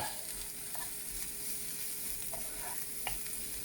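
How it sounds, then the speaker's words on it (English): Chilies, onion, cumin and mustard seeds fry in a pan with a soft, continuous sizzle, broken by a few light scrapes and taps of a stirring utensil. "That's the chilies, onion, cumin seeds, mustard seeds. We'll cook them a bit."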